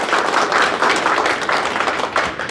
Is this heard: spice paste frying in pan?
no